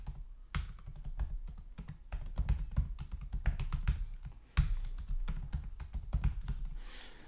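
Elixir code is typed on a computer keyboard in quick, uneven bursts of soft key taps with brief pauses, close and quiet, with no voice.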